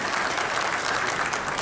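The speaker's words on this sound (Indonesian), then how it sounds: "Tepuk tangan bagi kita semua" A seated audience at a formal ceremony claps in a brief, dense burst, the applause even and fairly loud from start to finish with no talking over it.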